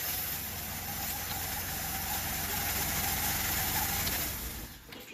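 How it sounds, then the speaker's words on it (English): A 2003 Jeep Grand Cherokee's 4.0 engine with a worn original oxygen sensor idles up close, a steady low hum and airy hiss that stays even before easing off at the end. "So I just started it, it's running."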